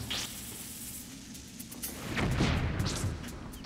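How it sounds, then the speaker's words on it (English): Bomb blast in Zelda: Skyward Sword, a low rumbling burst swelling about halfway through over a steady game backdrop, with no talk. "Throw a bomb and be done with you."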